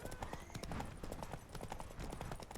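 Rapid clip-clop of horse hooves at a steady gallop rhythm in The Witcher 3, close and clear, with faint game-like background ambience.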